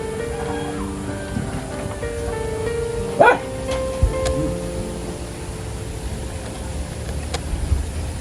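A single short dog bark rises out of steady background noise and hum, with no other clear barking around it.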